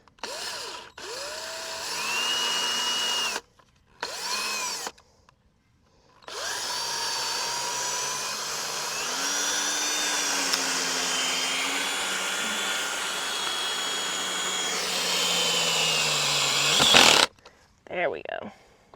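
Power drill driving screws in short bursts, the motor whining up and stopping several times before one long sustained run with pitch wavering under load, ending in a sharp clack and brief quiet handling noises.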